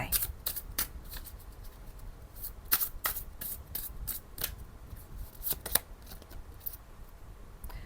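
Oracle cards are shuffled by hand in quick, crisp riffling bursts, a rapid series of papery flicks and slaps, close and fairly quiet, with no one speaking.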